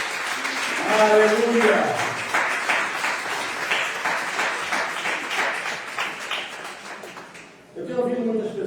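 Congregation in a church clapping for the Lord, a dense steady patter of many hands filling most of the stretch, with a voice calling out over it at the start and again at the end.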